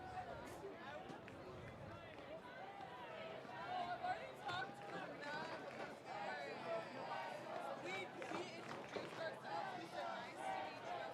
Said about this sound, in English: Crowd starting to stir and make some noise.